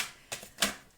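Tarot cards being shuffled, two quick papery riffling bursts close by and fairly soft, with quiet gaps between them.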